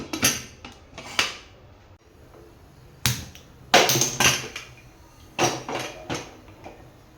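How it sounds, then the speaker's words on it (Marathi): Metal lid of a pressure cooker holding green moong kheer is fitted and closed, producing a series of close, sharp metallic clanks and rattles in irregular bursts. "आता कुकरचं झाकण लावून घेते"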